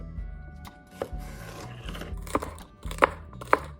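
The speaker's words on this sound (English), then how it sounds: "grab 1 cup each of carrot and celery and roughly chop them" A knife roughly chops carrot and celery on a board: quiet, irregular thuds and taps, a few sharper strikes near the end, over a low background hum.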